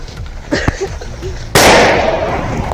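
A Vipera firecracker thrown at an abandoned building goes off in one sharp, loud bang followed by a rough crackling roar and rumble, preceded by faint talk and small background sounds.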